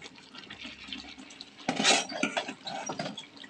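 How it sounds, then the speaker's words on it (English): Purple sticky rice pours into a pot with a sudden rushing, splashy clatter, followed by softer scraping and stirring sounds close up in a home kitchen. "So now we add the sticky rice."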